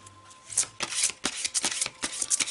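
An oracle deck of cards being shuffled, a run of quick papery riffles and flutters repeating for a couple of seconds, close and fairly quiet with no talk.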